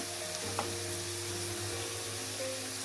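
Bottle gourd and egg fry gently in a pan with coriander leaves, a low continuous sizzle with an occasional spoon clink and stirring scrape, heard up close.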